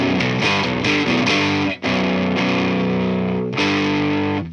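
Baritone guitar fitted with EMG pickups played through heavy distortion, loud chugging chords and ringing sustained notes with a brief cut near the middle; no voices.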